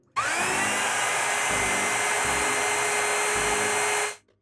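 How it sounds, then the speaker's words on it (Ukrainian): A Makita 18V cordless vacuum cleaner whirs up sharply and runs at a steady high-pitched whine for several seconds before switching off. "Вмикаю пилосос."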